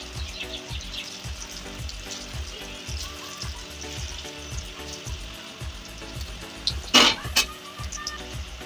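Small potato pieces fry in a pan for a vegetarian dhoka recipe, a continuous sizzle under a low rhythmic hum, with a sharp burst of louder crackling near the end.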